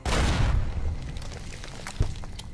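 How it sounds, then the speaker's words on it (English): An explosion in the video game Fallout New Vegas blows open a safe: a loud booming blast opens the moment, then rumbles and crackles away, with a sharp pop near the end. "that explosion unlocked the safe"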